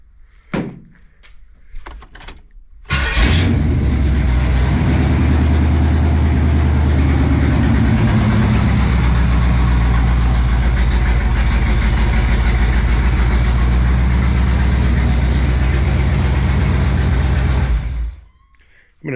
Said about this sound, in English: It's got a new starter, starts up great. Maybe I'll fire it up for you.